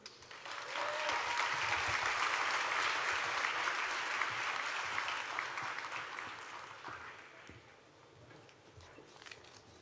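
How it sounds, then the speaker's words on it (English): A commencement ceremony audience applauds, a dense wash of clapping that swells quickly, holds loud for several seconds and then tapers off toward the end, with faint voices in the background. "Let's give her another round of applause."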